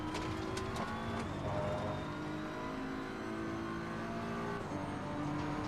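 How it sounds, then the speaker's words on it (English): A race car accelerates at full throttle in Assetto Corsa Competizione on the Nordschleife circuit, its engine note climbing steadily through the revs with a brief dip near the end, loud and continuous with no talk. "Down to 2nd. And then just full throttle."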